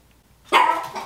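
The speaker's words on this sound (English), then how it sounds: "Puppy scared me." A puppy indoors lets out a single sudden, close, loud bark that trails into a brief yelp after a quiet moment in a kitchen.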